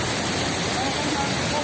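Waterfall at Mailum falls, a dense continuous rush of falling water filling the short stretch, loud and steady.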